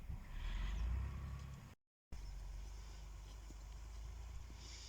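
A tractor works in an open field, its steady low engine rumble running throughout with wind noise over the microphone and a brief dropout partway through.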